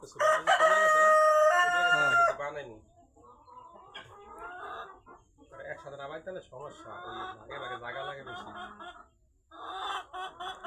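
Tiger breed chickens and a rooster: a loud crow opens, followed by clucking and fowl calls mixed with people talking nearby.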